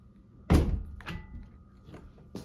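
A single heavy thud of a door shutting, followed by a few lighter knocks and taps in an otherwise quiet room.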